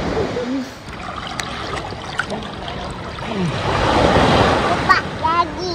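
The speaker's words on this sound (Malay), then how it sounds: "Okey, ombak sampai." Ocean waves wash onto a beach at Penang, a rolling surf hiss that swells louder toward the end, mixed with children's excited shouts and squeals close by.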